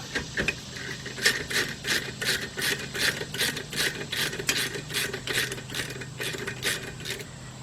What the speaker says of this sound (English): Okay, so we get our 7mm Allen. Get our ratchet.